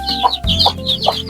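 Native hens of a mixed Basilan and Shamo flock cluck in short, bright bursts, about three quick calls spaced evenly, loud and close over a low background hum.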